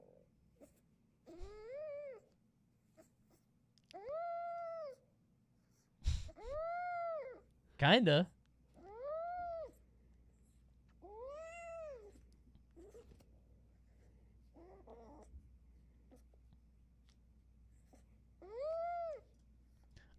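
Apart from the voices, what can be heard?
cat making Pikmin-like noises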